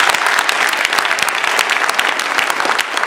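Audience applause for speech contest participants at a Toastmasters-style International Speech Contest, a dense, steady wash of many hands clapping continuously at even loudness throughout.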